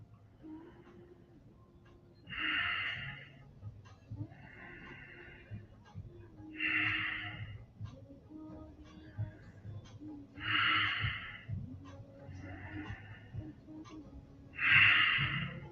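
Deep, slow breaths during a neck stretch exercise come in regular bursts of audible inhaling and exhaling, about two seconds apart, close and fairly soft against a quiet background.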